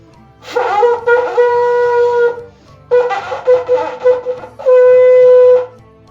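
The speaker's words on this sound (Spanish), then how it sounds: "que es el culcul, que es un cuerno con un orificio lateral" Mapuche kulkul, a horn with a side hole, blown in three long steady tones with short pauses between, loud and close, the last blast held evenly, no talking over it.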